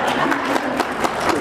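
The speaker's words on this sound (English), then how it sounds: "Everybody clap your hands." A small group clapping their hands on cue at an informal gathering, a brief run of quick, fairly loud claps with light crowd murmur and voices mixed in.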